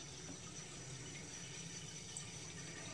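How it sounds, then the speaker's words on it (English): Tap water running steadily into a pot, a constant even hiss of flowing water that stays close and moderately loud with no speech. "So I'm filling it with water"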